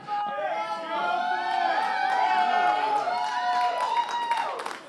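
Crowd cheering fills an esports arena during a Heroes of the Storm regional match between Murloc Geniuses and Gale Force, a loud, sustained roar of many overlapping voices lasting throughout.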